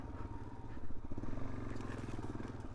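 A Suzuki DRZ 400S dirt bike ridden along a trail, its engine a steady, close, continuous drone with rough rumble and some clatter throughout.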